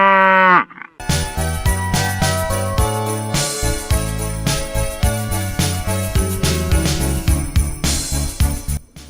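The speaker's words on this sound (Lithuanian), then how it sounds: "O, čia karvė." A cow on a safari park visit in Poland lowing in long, loud, drawn-out moos close by, repeated one after another with a faint jingle beneath.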